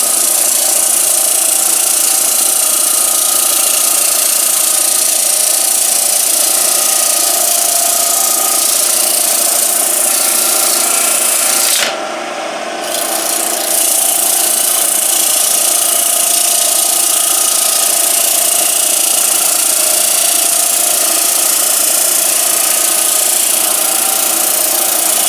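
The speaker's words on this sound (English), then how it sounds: "have that with some sandpaper. Buff that up a little bit with the 80 grit." Arizona ash turning on a Grizzly G0733 lathe while being sanded with 80 grit sandpaper, a steady loud whirring hum with abrasive hiss that continues throughout, briefly dipping for a moment near the middle.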